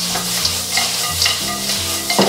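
Pork intestines with peanuts and seasonings are stir-fried in a wok, a steady close sizzle broken by the scrape and clatter of a spatula tossing the food, with no voices.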